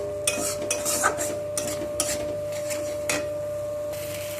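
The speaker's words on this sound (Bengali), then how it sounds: "যাতে গুঁড়ো মশলা দিয়ে সব কিছুকে ভালো করে কষিয়ে নেব" Ground spices frying for a pea, egg and potato curry, stirred in a pan with a metal spoon: repeated scraping clinks at an uneven rhythm over a faint steady sizzle, close and alone.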